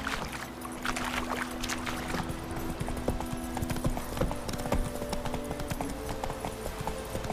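Roach, the horse in the video game The Witcher 3, gallops with a steady, fast clatter of hooves, close and continuous under a busy outdoor backdrop.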